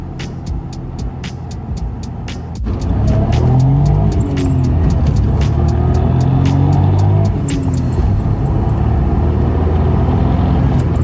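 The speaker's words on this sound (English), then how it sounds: "there's about 3 seconds of lag before the turbo finally kicks in and you properly sink into your seat" A JDM car accelerates from a lower drone into a louder, rising engine roar as the turbo comes on boost, heard from inside the cabin with ticking and rattles above the steady engine noise.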